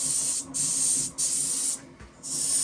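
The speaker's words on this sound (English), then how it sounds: "We're using a hardener and Steenbeck airbrush" A Steenbeck airbrush with a limiter spraying paint mixed with hardener onto models, three close, steady hissing bursts with short pauses between them and no talk.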